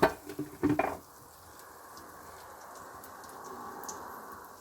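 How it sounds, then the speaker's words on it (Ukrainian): A few brief knocks and clatters at the start, then a steady, soft sizzle of kefir pancake batter frying in a pan continuing alone. "Кожну порцію смажимо окремо."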